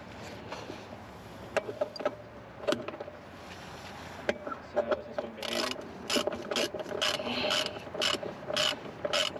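Ratcheting wrench clicks come in bursts, sparse at first and then quicker and denser, as a part is worked on during the rebuild of an Envoy, close by and without talk.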